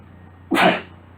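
A single sharp sneeze bursts out close by, loud and brief, against a quiet background.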